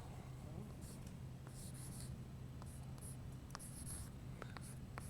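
A hand writes an algebraic equation on a board, with light scratchy strokes and small taps coming in short bursts over a soft steady room hum, and faint voice-like sound underneath.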